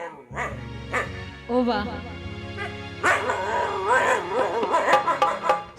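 A voice imitates a dog, yipping, barking and whimpering in a string of exaggerated bursts, performed over a steady droning instrumental accompaniment within a folk storytelling song.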